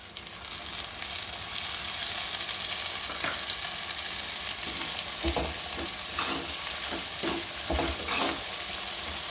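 Chopped tomatoes frying in a pan send up a dense, constant sizzle, joined in the second half by a run of rhythmic stirring clanks.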